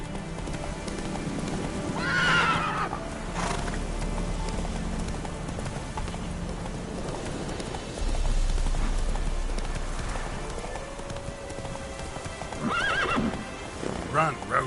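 Horse Roach in The Witcher 3 video game, with steady clip-clop hoofbeats at a gallop and a couple of shrill neighs, while someone speaks over it.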